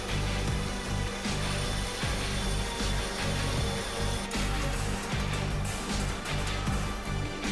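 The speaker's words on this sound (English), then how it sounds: "Springs used, among others, in large vehicles or valves are additionally grinded using special stones, which are gradually lowered until the spring reaches the appropriate length." Steel springs for large vehicles or valves ground to length under special grinding stones, a loud continuous industrial grinding roar with rhythmic mechanical pulses throughout.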